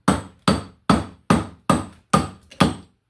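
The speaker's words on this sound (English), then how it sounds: "Hammer time, baby." Seven sharp hammer blows while working on a bike bearing, evenly spaced about half a second apart, close and loud with quick decays and no talk.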